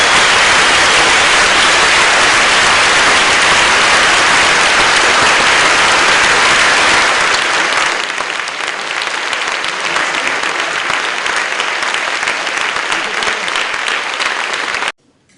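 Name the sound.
conference audience applause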